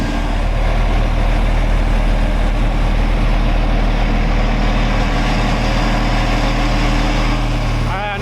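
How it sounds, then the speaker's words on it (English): A trailer pump runs continuously at close range with a flat, steady low drone and no break, loud and unchanging throughout, while a voice speaks briefly over it. "the pump is more of a flat noise instead of such a rattly noise"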